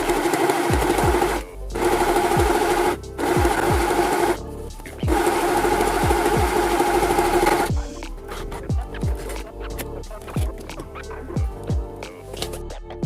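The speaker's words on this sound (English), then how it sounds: "if you can afford a more expensive, better like sewing machine" A sewing machine stitches leather trousers in rapid mechanical bursts, whirring steadily and then breaking into short, stop-start runs with brief pauses between them, close and clear.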